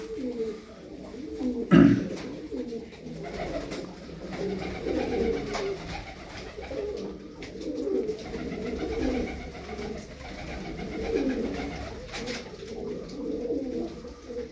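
Tumbler pigeons cooing steadily in low, rolling murmurs, several birds close by, with one brief louder flutter or thump early on.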